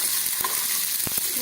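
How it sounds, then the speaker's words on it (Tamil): Pepper dumplings made from steamed idli rice are stirred and tempered in hot oil, giving a bright continuous sizzle with a few soft scraping stirs of the spoon. "இப்போ பொரிஞ்சதில் வந்து இந்த உருண்டையை போட்டு தாளிக்கப்போம்"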